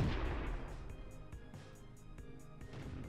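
Booming tank cannon fire from the World of Tanks game, several heavy shots at intervals over a dense, rumbling battle background, fairly loud throughout.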